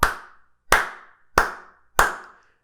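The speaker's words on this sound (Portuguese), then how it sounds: "Você merece uma salva de palmas" Four separate hand claps ring out at an even pace, each sharp and close with a brief decay, like an applause sound effect, with no talk.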